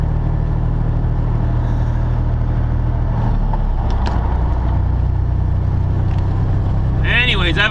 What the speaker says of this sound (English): this traffic is going to be like this all the way into Chicago